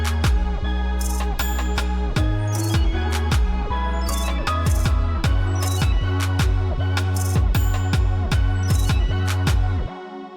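First verse of a beat, a loud, steady hip-hop groove with bouncy sub bass under crisp, repeating percussion hits and layered synth parts, cutting off abruptly at the end.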